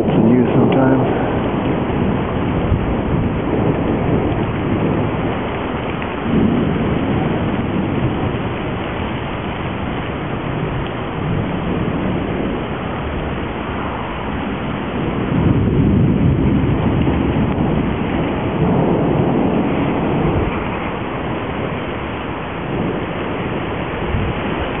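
Rain falls steadily through a lightning storm, low thunder rumbling and swelling twice in long waves, while a voice speaks intermittently over the downpour.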